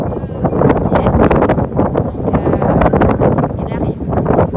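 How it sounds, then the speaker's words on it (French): Steady gusting wind buffets the microphone at Dieppe harbour as a ferry arrives from England, a continuous rough roar with a voice faintly mixed in. "Il y a un petit peu de vent, mais il fait vraiment beau."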